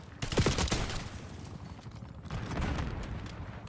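The Archangel single-fire rifle in Black Ops 6 battle royale cracks off in a quick run of several sharp shots, then scattered further reports and rumbling gunfire continue in the background at moderate loudness.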